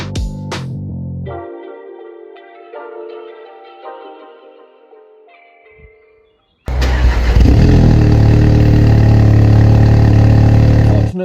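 Audi S3 engine idles loudly and steadily up close in the rain, a low constant rumble that kicks in abruptly after a stretch of melodic electronic tones and fades of other sound.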